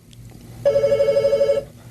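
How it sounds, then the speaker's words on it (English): A studio telephone rings with a steady electronic warble, one continuous burst of rapid repeated pulses, close and clear over a low background hum. "Or no, that's the studio phone."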